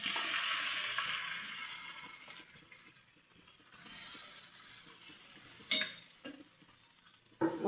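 Boiled mutton goes into a pan of fried onions, with a soft hiss that fades and returns, a few light scraping ticks, and sharper clatters near the end.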